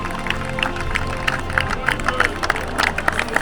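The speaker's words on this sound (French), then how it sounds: "Le public est ici pour applaudir." Football spectators applaud after a first-round cup match, a steady crowd clapping with scattered sharper claps and a murmur of voices underneath.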